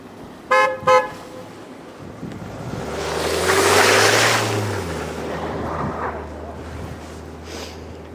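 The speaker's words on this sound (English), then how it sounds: "Here comes a car asking me to get out of the way." A car horn gives two short toots on a snowy street during a blizzard, followed by the car passing close by with a swelling engine and tyre rush under strong wind noise.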